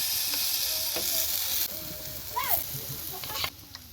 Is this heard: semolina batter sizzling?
yes